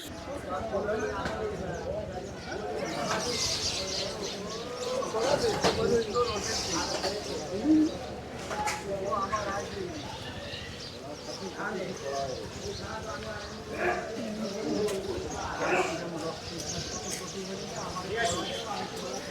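Birds chirp and coo outdoors at a river ghat, scattered calls rising over a busy open-air background with people talking nearby.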